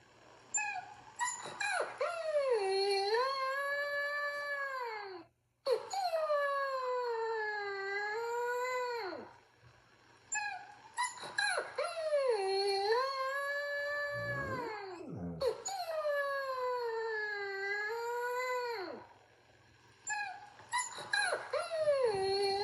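Dogs howl and whimper in long, drawn-out wavering cries, rising and falling in several extended bouts with short breaks between, loud and close indoors.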